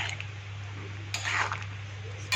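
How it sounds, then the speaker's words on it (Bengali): A lid set onto a pot of cooked mutton, heard as one brief clattering knock of metal that stands out from a quiet kitchen background. "ঢাকনা দিয়ে দেবো, স্মেলটা যাতে না বের হয়"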